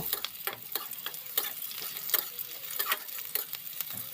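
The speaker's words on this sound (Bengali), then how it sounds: "এবার সব কিছুকে একটু ভেজে নেব" Steady crackling sizzle of onions and green chilies frying in hot mustard oil, with scattered sharp pops and spatters throughout, close and fairly quiet.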